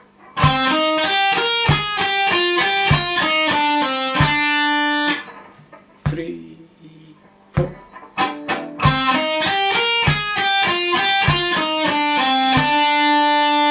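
An electric guitar plays a fretted riff: a repeating melodic pattern of clear single notes, with a brief pause midway before the pattern resumes at a steady pace.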